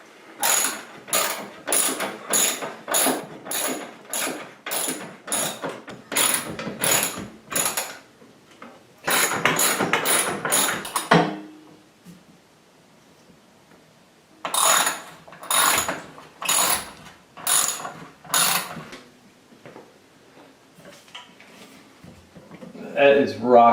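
A socket ratchet drives heavy-duty lag bolts for a shower grab bar on tile, with rapid bursts of loud, close clicking separated by pauses and a quieter stretch in the middle.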